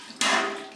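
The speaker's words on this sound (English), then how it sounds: "Going to be a loud clang." A metal pizza pan drops into a sink during all-grain home brewing, giving one sudden loud clang that rings and fades over the next half second.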